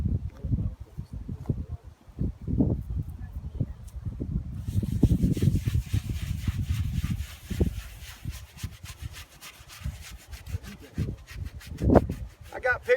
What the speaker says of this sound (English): we're just going to give it a scrub